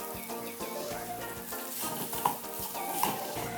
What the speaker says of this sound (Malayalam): ഇതെല്ലാം നന്നായി ചേർത്ത് ഉരുളക്കിഴങ്ങിൻ്റെ കൂടെ നന്നായി ഉടച്ച് എടുത്ത് എല്ലാം കൂടെ നന്നായി ഇതൊന്ന് മിക്സ് ചെയ്യുക.